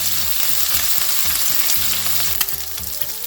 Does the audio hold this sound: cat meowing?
no